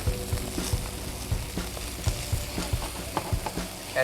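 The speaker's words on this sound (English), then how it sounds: "So we got the rice in here, so I'm gonna mix it around." Cooked rice being stirred around in a frying pan for fried rice, a soft steady sizzle with repeated low knocks and scrapes of the utensil against the pan in an uneven rhythm.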